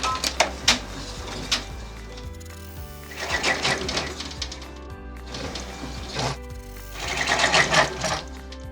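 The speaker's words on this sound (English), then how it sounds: "And we're going to run our tack down stitch." An embroidery machine runs a tack-down stitch on a pot holder, giving a steady mechanical whir broken by rhythmic clattering bursts of needle strikes that swell and ease in repeating cycles, close and clear.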